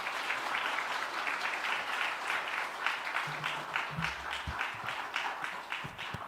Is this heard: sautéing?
no